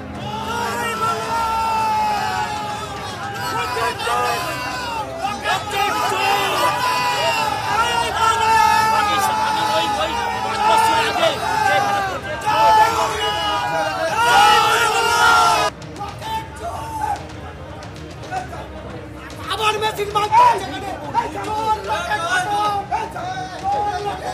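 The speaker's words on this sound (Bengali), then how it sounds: "লকেট চট্টোপাধ্যায়কে উদ্দেশ্য করে জোর স্লোগান, গো ব্যাক স্লোগান" Large crowd chanting loud, sustained 'go back' slogans at BJP candidate Locket Chatterjee during the 2024 Lok Sabha election campaign in Dhaniakhali, a dense roar of shouting voices and babble that continues throughout.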